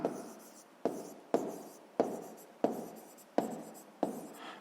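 Pen or pencil writing a segment length for a sixth-grade maths exercise, six or seven quiet, regular strokes, each starting sharply and fading, close and alone.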